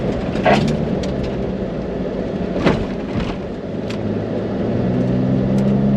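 Pickup truck driving along a desert dirt road in the Mojave, a continuous engine and tyre rumble with occasional rattles and thumps from the rough surface.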